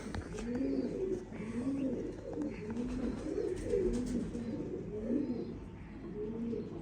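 Pigeons coo continuously nearby, a low, rolling, repeated cooing phrase overlapping in a steady rhythm, with faint background noise.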